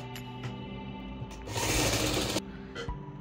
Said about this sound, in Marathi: तर आपण डबल शिलाई घालून घेणार आहोत।